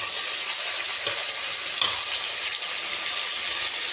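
Chopped onion and fresh field beans frying in a pan for tomato bath, a loud steady sizzle with a couple of soft stirring scrapes, close by and with no speech.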